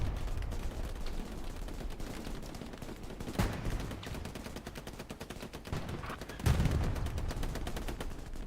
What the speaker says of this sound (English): Zombie laying hate with that MG